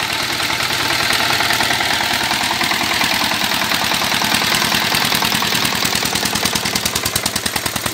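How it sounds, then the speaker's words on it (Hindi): A small Mahabali engine pumping water from a borewell runs with a loud, steady rapid chugging, close by and continuous throughout. "देखिए छोटा सा इंजन क्या मजे बांध रहा है। आवाज़ सुनिए क्या शानदार आवाज़ है।"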